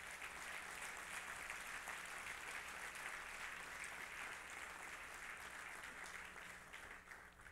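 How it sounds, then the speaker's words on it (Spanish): The congregation at a Spanish-language Christian church service claps in a dense, sustained round of applause. It sounds full and continuous but quiet overall, and it thins slightly toward the end. "Dele fuerte el aplauso al Señor."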